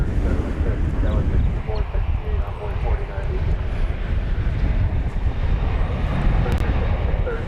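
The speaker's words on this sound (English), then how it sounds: "Cleared for takeoff, American 2543 to Santa Ana, California, 737-800." An American Airlines Boeing 737-800 takes off at Dallas/Fort Worth airport with a loud, continuous, broad jet-engine roar and some wind buffeting on the microphone, while people talk over it.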